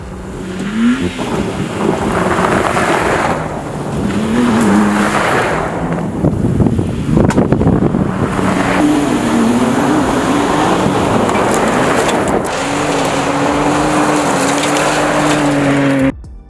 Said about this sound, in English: they decided to be the first one to get rid of all their V8s and go with this engine that sounds like a